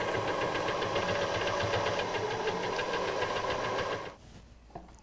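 Up close, a sewing machine stitches fabric over corded piping in a steady, rapid run lasting about four seconds, then halts, leaving faint handling noise.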